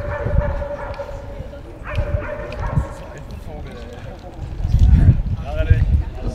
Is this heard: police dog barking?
yes